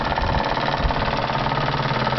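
An electric motor drives a PM Research dynamo on test, producing a loud, steady mechanical whir with a fast, even pulsing drone close to the microphone.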